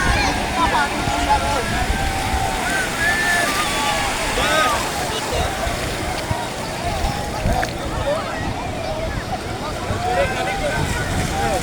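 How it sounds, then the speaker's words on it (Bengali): Surf rolling onto the beach at Cox's Bazar, a low churning wash of sea waves that swells and recedes unevenly, with voices and crowd noise mixed in over the water. "খুব ঢেউ, খুব ঢেউ।"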